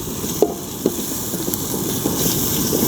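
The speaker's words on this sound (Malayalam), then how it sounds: "നന്നായിട്ട് ഇളക്കിയെടുക്കാം." Mutton bone marrow masala being stirred in a pan, a soft continuous sizzle with a few light scraping knocks of the spoon against the pan.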